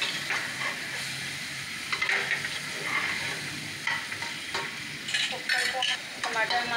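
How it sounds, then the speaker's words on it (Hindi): Tomatoes being stirred into frying masala in a pan while cooking jackfruit curry, giving a steady sizzle with repeated scraping strokes of the spoon against the pan, close and clear, with no talking. "अब इसमें हम टमाटर डालेंगे, टमाटर डाल देंगे तब तक 5 मिनट के लिए।"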